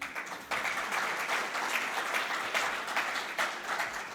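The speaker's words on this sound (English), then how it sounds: "you don't want to give a round of applause to your colleagues?" Conference audience at Future Summit 2025 giving a round of applause to colleagues; dense steady clapping starting abruptly after a brief pause, sustained at moderate level.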